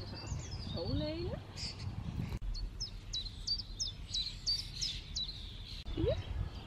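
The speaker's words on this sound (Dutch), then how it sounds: "die vogeltjes op de achtergrond hoor je ze" Small birds sing in a garden, with clear chirps and a run of repeated sharp tweets over steady insect buzzing; one person speaks during the clip.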